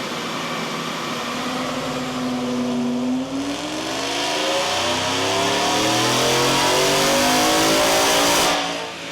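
2024 Ford F-150 Outlaw with Whipple supercharger and long tube headers revving on a dyno, a loud continuous engine pull rising steadily in pitch over several seconds before cutting off.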